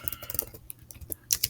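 Quick bursts of keystrokes on a computer keyboard, light irregular taps clustering and pausing, close and fairly quiet with no voices.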